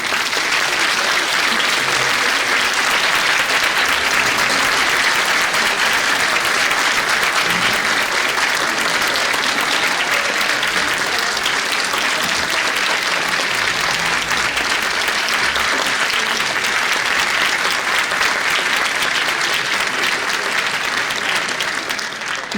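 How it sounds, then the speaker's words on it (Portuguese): An opening ceremony audience gives a loud, sustained round of applause for a choir and a baroque ensemble. Many hands clap densely and evenly for over twenty seconds without letting up. "Peço mais uma salva de palmas para a Oficina Coral e Besouros Barroco."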